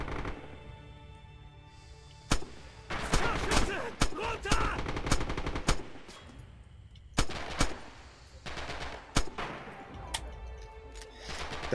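Gunfire in the World War II shooter Red Orchestra 2: Heroes of Stalingrad, with sharp rifle shots and rapid bursts cracking over a dense battle din, some close and loud, others farther off.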